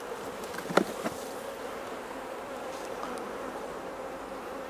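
Honey bees hum steadily around an open hive during a Bailey comb change, a continuous low buzz with a brief louder burst near the start, close by and with no voices.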